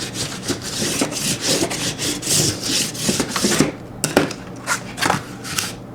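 A ledger book page being rubbed firmly by hand. A close, steady series of scratchy back-and-forth strokes is followed by a few separate swipes and a short pause.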